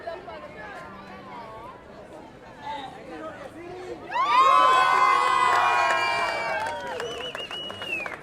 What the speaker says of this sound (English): And everybody started cheering.